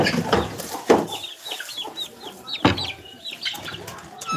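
Chickens, including a large fighting rooster, cluck close by in a few short bursts with brief gaps between them.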